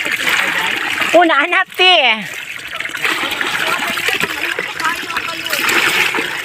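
Water splashing and trickling steadily while dishes are washed at a farmhouse, close and continuous, with a child's brief speech and sing-song voice cutting through near the start.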